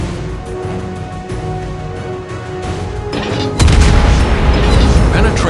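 Naval gunfire from a Tier 8 ship in World of Warships Blitz: a deep booming shot lands after a rumbling battle bed, followed by a sustained heavy roar.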